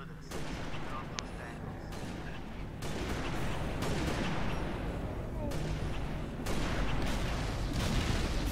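Dense, continuous battle din from Halo Reach, with rumbling explosions and rapid gunfire layered together, holding steady and swelling louder toward the end.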